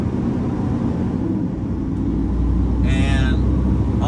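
A slow truck gets going from inside the cab, with a low, heavy engine rumble building steadily and loud throughout and a brief higher tone near the end.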